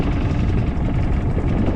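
A Hangkai outboard motor runs steadily on a Kitt Boats 330 PVC inflatable boat in choppy water during trolling, a continuous close, loud low engine drone with no speech.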